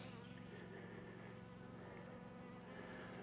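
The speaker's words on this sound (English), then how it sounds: "A lot of bees, and they're working." Honeybees buzz at an open hive during a hive check, a constant dense hum from many bees close by, steady and unbroken throughout with no talk.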